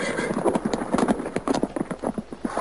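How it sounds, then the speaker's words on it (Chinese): Horse hooves clip-clopping, a quick, steady run of sharp hoofbeats heard close and fairly loud throughout, with no voices over them. "话音未落，就听见马蹄声由远及近。"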